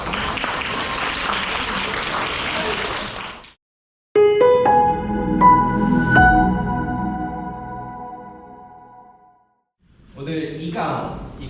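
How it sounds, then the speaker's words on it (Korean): An audience at a Pyeongtaek sustainable development lecture series claps for a professor for about three seconds, then it cuts off abruptly and a short ringing musical chime follows. "수고해주신 오수정 교수님께 박수 한번 드립니다."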